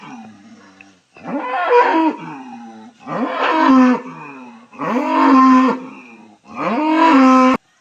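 Close, loud cow moos: four long lowing calls in steady succession with brief gaps and no talking, from uncommon cattle offered for sale, including a six-month-old heifer.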